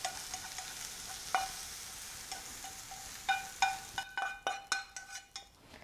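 A pepper-seasoned filling of bok choy for vegetarian dumplings is stirred in a pan over a steady sizzle, with a run of sharp utensil clinks and scrapes against the pan growing louder near the end.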